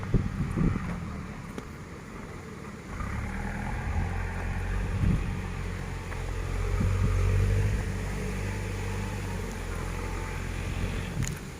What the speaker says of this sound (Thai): ขับรถไถ